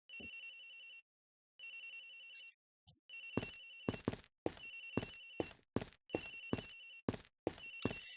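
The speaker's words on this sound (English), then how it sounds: "Agent Hicks' phone! It's ringing from somewhere, sir!" A cell phone rings in the Ace Attorney Investigations game with repeated bursts of a bright electronic ringtone, separated by short gaps and sharp percussive hits, clear and without talk.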